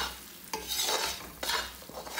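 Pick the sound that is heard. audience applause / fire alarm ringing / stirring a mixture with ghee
stirring a mixture with ghee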